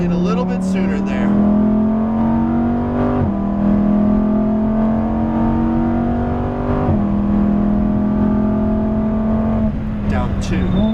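A 2018 Lamborghini Huracan Performante drives on a track, its engine droning loud and close inside the cabin, steadily climbing in pitch and dropping with each gear change, with an instructor talking over it.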